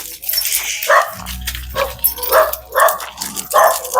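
A dog barks in several short, loud bursts, spaced roughly every half second, alongside rustling and movement noise while the animal pulls on its leash.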